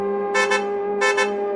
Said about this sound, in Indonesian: Bunyi klakson memecah lamunanku